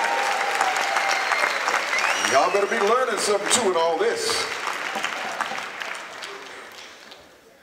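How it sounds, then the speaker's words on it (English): A crowd applauds a school at the opening of the Sedona International Film Festival, sustained clapping under someone talking over a microphone, fading out toward the end. "Give the school a round of applause."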